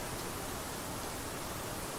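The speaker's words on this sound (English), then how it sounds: "there's a waterfall in the background" A waterfall by a mountain lake gives a soft, even hiss of falling water, faint and distant, unchanging throughout with no other sounds.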